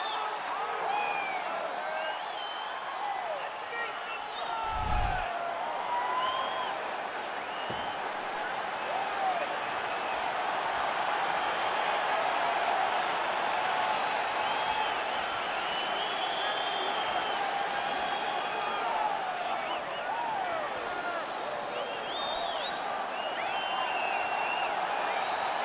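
A sold-out arena crowd at a UFC 277 flyweight championship fight keeps up a steady, dense roar of cheering and applause, with one brief louder thump partway through.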